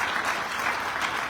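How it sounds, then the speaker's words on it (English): Dense, steady audience applause fills the hall after a bhajan and kirtan music session at the Durga Mandir temple, an even wash of many hands clapping together without a break. "let's have another lovely round of applause for all the musicians this evening"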